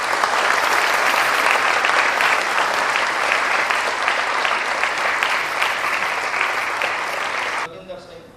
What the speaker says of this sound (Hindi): आदरणीय श्री नानक चंद जी, तालियों से जोरदार स्वागत करें